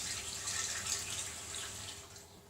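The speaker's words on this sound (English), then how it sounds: "I'm just putting some water in Piggy Plate." Tap water runs steadily into a plate in a home kitchen, a continuous close splashing hiss with no voices.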